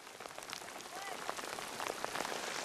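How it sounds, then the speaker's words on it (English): Heavy rain pelts the water and surfaces around a kayak out on the water, a steady dense hiss with scattered sharper drops, fairly close and continuous throughout. "I'm gonna have to put the camera up, rain's coming pretty heavy."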